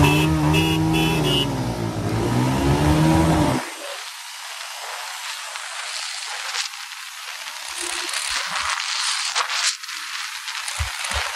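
Bajaj Pulsar NS 125 and Pulsar 125 motorcycles in a drag race, engines droning loud at first, then a steady wind-blown rush with a fainter engine hum as the bikes pull away.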